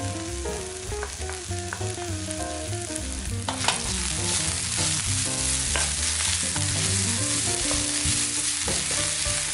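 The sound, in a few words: stir frying finely chopped onion and shiitake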